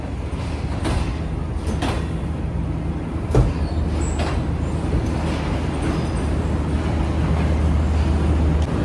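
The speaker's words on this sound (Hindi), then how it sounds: "ट्रेन का शक्ति स्पीड से आगे बढ़ रही है" Shalimar Express passenger train running at full speed, a steady loud rumble of wheels and carriage noise with a low hum throughout and one sharp knock midway.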